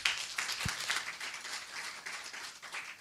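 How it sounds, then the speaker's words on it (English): At a national policy meeting on youth employment in agriculture, a modest audience claps for itself, with soft scattered clapping that comes in uneven bursts and stays fairly faint and distant. "So can we clap for ourselves?"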